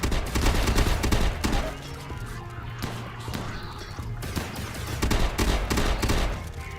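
Shotguns blast in a modded RimWorld colony battle, a loud, dense barrage of overlapping shots and impacts that rattles on without pause for several seconds, with no speech.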